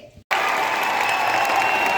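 Audience applause bursts in suddenly after a brief quiet moment, then holds as a dense, steady clapping from a crowd at a live show.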